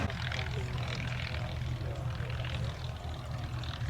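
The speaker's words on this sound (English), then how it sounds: "Eskil bringing the P-51 in to land." A P-51 Mustang propeller fighter comes in to land at an air display, a steady droning engine rumble under a commentator's talk.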